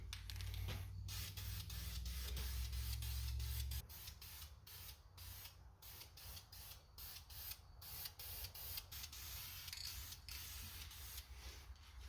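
Aerosol spray paint in semi-flat black going onto an intake manifold for a 1963 Ford Falcon turbo 2.3L, heard as a soft hiss with short bursts and faint rubbing, under a low hum that stops after a few seconds.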